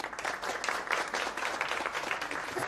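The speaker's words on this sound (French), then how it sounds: "Pourquoi applaudissent-ils Andrew Carnegie?" An audience applauds a speech by Andrew Carnegie, a steady wash of many hands clapping that holds at an even level for the whole stretch with no voices over it.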